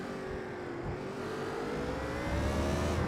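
GT race cars at Monza during an endurance race, engines droning steadily and close as they brake and shift, a continuous roar with a rising whine toward the end.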